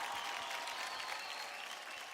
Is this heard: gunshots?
no